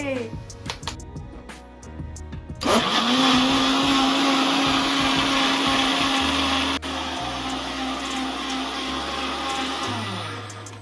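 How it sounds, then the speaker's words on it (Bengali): An electric mixer blending an Oreo biscuit and chocolate milk shake: after a few seconds of background music, the motor kicks in with a loud, steady whirring drone that runs for about eight seconds before winding down. "এইবার আমি মিক্সারে বসিয়ে জাস্ট শেক করলেই কিন্তু রেডি হয়ে যাবে"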